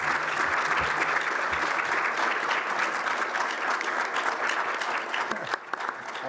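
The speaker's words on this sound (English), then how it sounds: "Guys, give the guys a round of applause." Audience applause fills the hall after an esports panel at PAX East 2022, a steady dense clapping from a large crowd that holds for several seconds and thins slightly near the end.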